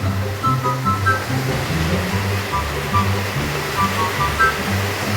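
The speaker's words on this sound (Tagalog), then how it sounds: "ang lakas ng ulan!" Heavy rain pours down steadily as a dense, continuous roar with no breaks, while a person talks over it throughout.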